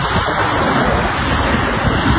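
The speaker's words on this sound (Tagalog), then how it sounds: "Sobrang lakas ng alon." Strong sea waves crash and churn along an island shore in the Philippines, a loud, constant roaring surf that fills the whole moment without speech.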